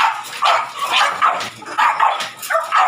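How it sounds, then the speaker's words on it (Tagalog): Imported dogs bark in a run of sharp, repeated woofs and yips, several quick bursts at close range with a brief whimpering edge, no talking over them. "Mga dogs ni Sir Eman."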